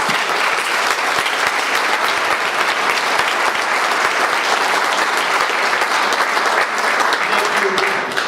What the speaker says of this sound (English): join me in a round of applause for our staff members